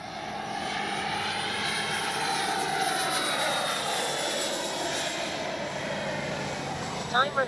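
A Freewing 80mm Avanti S V2 RC jet flying overhead makes a continuous rushing, whining roar that swells and fades slightly as it moves, with a couple of brief knocks near the end.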